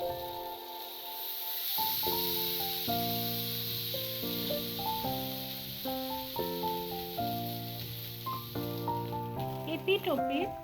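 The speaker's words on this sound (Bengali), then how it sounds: "এইগুলো আমি এবার আস্তে আস্তে ফ্রাই প্যানের মধ্যে পেতে পেতে দেবো।" Marinated pomfret pieces fry in a little oil in a frying pan, a soft continuous sizzle sitting under louder background music.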